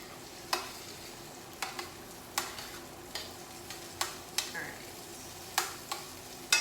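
Vegetables cooking down in oil in a pan for rigatoni, a soft steady sizzle under sharp, evenly spaced clicks and taps of a utensil stirring, close and fairly quiet, with no talking.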